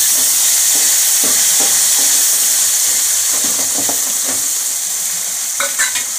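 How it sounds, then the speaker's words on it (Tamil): Tomatoes fry in an oily pan over high heat for an eggplant kuzhambu, sizzling loudly while a utensil stirs and scrapes through them in repeated bursts, with no voices. "இப்போ தக்காளி போட்டுடுறேன்."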